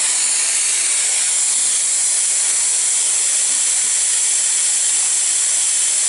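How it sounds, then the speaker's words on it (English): A Hoover vacuum cleaner runs continuously nearby, a loud, steady airy hiss and whine holding unchanged throughout with no voices. "So sorry about the noise of the hoover,"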